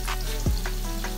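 Onions frying in oil for biryani, browning toward dark brown, giving a steady close sizzle with a brief scrape of stirring partway through.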